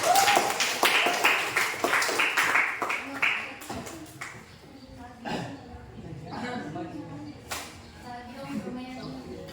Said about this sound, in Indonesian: Tepuk tangan untuk diri kalian masing-masing.